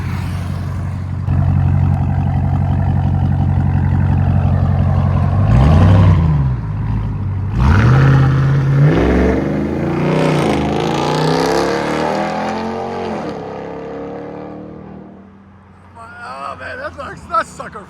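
A 2022 RAM TRX with a 6.2L supercharged Hemi V8 and muffler delete roars through repeated rising revs and gear pulls, loud and close before fading toward the end, with voices talking underneath.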